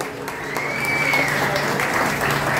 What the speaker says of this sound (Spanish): Y ese aplauso bien bonito que se escuche para Luciana.